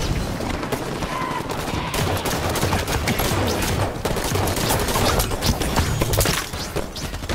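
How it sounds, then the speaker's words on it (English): Enemy gunfire in Halo 5 rattles in loud, continuous bursts of rapid automatic shots mixed with impacts and crashes, a dense, chaotic firefight that barely lets up. "Watch enemy fire!"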